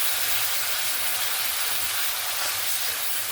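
Spice paste for a Bengali nona tangra fish tel jhal frying in hot oil as small splashes of water are added, giving a steady, loud, continuous sizzle and hiss with no talk.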